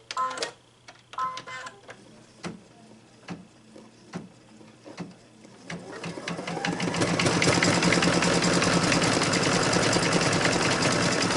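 A home embroidery machine stitches a design: a series of spaced mechanical clicks and taps first, then a loud, steady, rapid whirring hum that runs on to the end.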